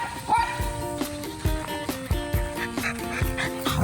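Misty, a pet dog, playing with a ball, giving a run of close, excited whines and short yips in quick bursts, without any talking.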